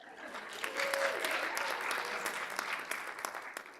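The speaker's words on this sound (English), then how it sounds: "it's okay to applaud for yourselves" Applause from an audience at a student poetry recitation competition, a steady wash of many clapping hands held at moderate level for several seconds, with faint voices and a brief whistle-like tone mixed in.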